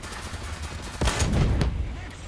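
Tank cannon fire in War Thunder: a heavy, loud blast crashes in about midway, followed soon by a second report, ringing over a low rumbling battlefield background.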